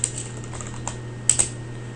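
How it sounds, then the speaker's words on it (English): A few quick keystrokes on a computer keyboard, crisp and close with a steady low hum beneath, clustered in short bursts with gaps between. "Let's type in insert into"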